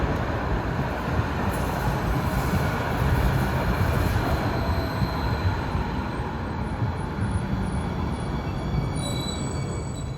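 A Hudson Bergen Light Rail train rolls past near Jersey Avenue at rush hour, a loud, steady rumble of wheels and car noise that fills the whole stretch without a break.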